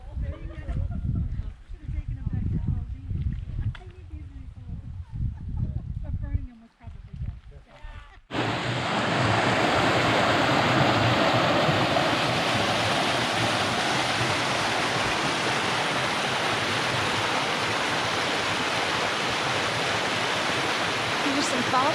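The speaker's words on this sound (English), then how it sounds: "Here's some falls right out of South Branch." Waterfall at South Branch Pond in Baxter State Park, Maine, roaring as a loud, steady wash of rushing water that starts abruptly and continues for the rest of the stretch, following a quieter outdoor passage with faint voices.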